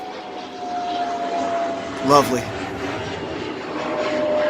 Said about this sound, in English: Got an airplane passing by.